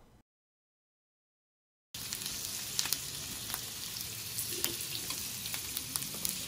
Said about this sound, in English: Now the pork loin is ready and I'll put it in the slow grill on this Japanese shishirin hidakonro.